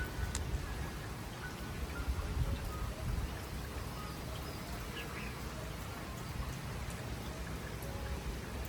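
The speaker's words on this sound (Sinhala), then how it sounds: "උදේ ඉඳන් හොඳටම වහිනවා." Heavy rain falling steadily since morning after a night storm, a dense continuous wash of drops with no talk over it.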